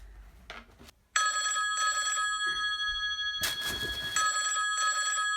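A telephone bell rings in repeated bursts, close and loud, with short pauses between the ringing cycles and a brief lull before it starts.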